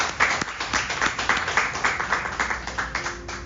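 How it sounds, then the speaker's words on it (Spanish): Applause for a company CEO at a book presentation event, a steady patter of clapping from an audience that swells and continues throughout, fairly close and loud. "Por favor, pido un fuerte aplauso para él."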